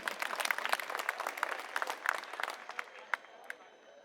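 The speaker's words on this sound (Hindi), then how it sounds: "मैं चाहूंगा एक बार जोरदार तालियां अपने लिए आप लोग बजा लीजिए।" Crowd applause at a Delhi political rally in Kirari, a dense patter of many hands clapping with some louder claps standing out, then thinning toward the end.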